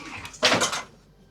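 A tool drawer in a construction work trailer slides open with a rattling metallic scrape and clatter of its contents, one short close burst that fades quickly, with no talk.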